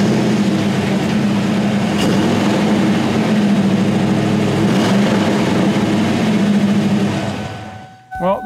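Ford Mustang engine idling with a steady low rumble for several seconds, then dropping off near the end.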